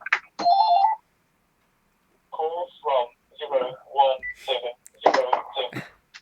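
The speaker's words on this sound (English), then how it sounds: "you've got the phone ringing in the background" A telephone rings in the background of an indoor conversation: a short electronic ring burst at the start, then people talking over further faint tones.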